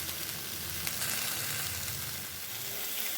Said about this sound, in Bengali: কষিয়ে নেবো আবার, ভালো করে কষিয়ে নিয়েছি